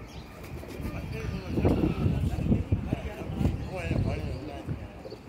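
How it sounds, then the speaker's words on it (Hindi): Pigeons cooing softly amid outdoor chatter, with low throaty calls repeating irregularly over a steady background hum. "कहाँ गया कबूतर ये आया ऊपर से"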